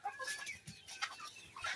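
Native chickens clucking at feeding time on a small farm, several close birds giving short, repeated clucks and chirps in an irregular chatter.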